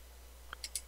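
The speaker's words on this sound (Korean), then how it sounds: "마우스 우클릭" A computer mouse is right-clicked during modelling work in SketchUp, giving a couple of quiet, sharp clicks close to the microphone over a low steady hum.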